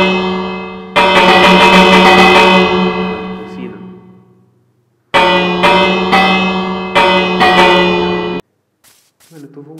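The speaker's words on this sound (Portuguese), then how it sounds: "vamos finalizar o vídeo tocando o sino aqui" Bell rung repeatedly in the video game Minecraft, struck in bright, echoing clangs: one long ringing burst that decays, then a quick run of several strikes, each ringing out, ending with a faint short tone.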